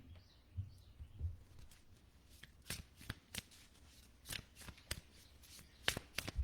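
A deck of oracle cards being shuffled by hand, soft riffling and sliding at first, then a series of sharper card snaps and taps that grows busier toward the end, close and fairly quiet.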